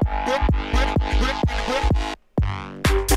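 Bass house transition section with a filtered Reese bass layered under a chopped vocal loop, loud and dense with steady pulsing hits, a brief dropout near the end before the full mix returns.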